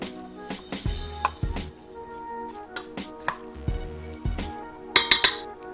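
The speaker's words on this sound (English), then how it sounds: "Now we're just gonna get all this and we're just gonna mix it all together." Shrimp dish ingredients are stirred together with a spice mixture in a bowl, producing intermittent clinks, scrapes and soft knocks of a utensil against the bowl, close by with no talking.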